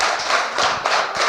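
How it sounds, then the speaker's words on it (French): A school audience at a primary-school quiz semifinal in Fanaye claps for the teachers, a short burst of close hand claps with uneven rhythm and no talking. "Applaudissez-les."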